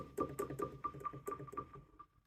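A quick run of short, plucked tones from a Roland Gaia SH-01 synthesizer with a steady high tone running beneath, about ten pulses in two seconds before it fades out.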